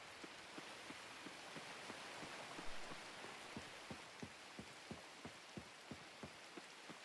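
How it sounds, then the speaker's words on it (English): Steady rain pouring in the farming game Coral Island, a soft continuous hiss with a run of regular low taps repeating about every third of a second throughout, quiet and alone. "especially since it is raining"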